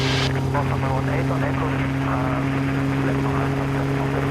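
Helicopter engine and rotor running with throttle on during low hovering practice, a loud steady drone with strong tonal hum throughout, while someone speaks over it.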